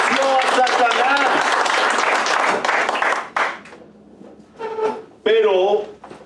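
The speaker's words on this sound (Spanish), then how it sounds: "¿Quién le da un aplauso al Señor por eso?" A church congregation claps and cheers for a few seconds, a dense burst that fades, followed by a voice calling out and more scattered response.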